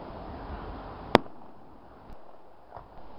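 A single sharp firework burst crackles directly overhead at a Santa Claus Day display, followed by faint distant pops against a quiet night background.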